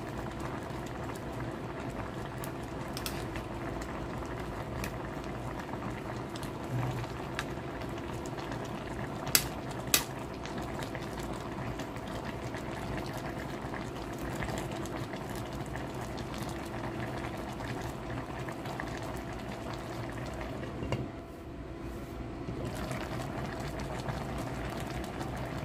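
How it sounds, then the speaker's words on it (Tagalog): Paksiw na bangus (milkfish) simmering at a steady boil with vegetables in the pot, a continuous bubbling wash with occasional louder pops and clinks, close and even throughout. "Pakukuluin lang natin siya hanggang maluto yung mga gulay"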